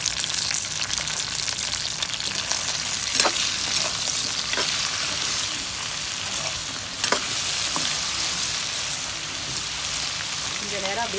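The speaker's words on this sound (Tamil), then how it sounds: "வெண்டைக்காய் வந்து நல்லா வதங்கிடுச்சு எண்ணெயில்" Okra sautéing in hot oil in a pan with salt and turmeric, a steady broadband sizzle like light rain running throughout, with faint stirring clicks and a few brief scrapes, close and moderately loud.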